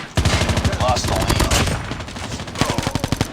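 Rapid automatic gunfire in the Call of Duty Mobile Gun Game team mode, loud repeated bursts of shots firing in quick rhythm, pausing briefly mid-clip before another fast volley.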